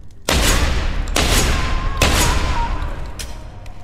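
A shotgun in the video game Deus Ex: Human Revolution fires three loud, booming blasts, roughly evenly spaced, each one trailing off into a rumbling echo.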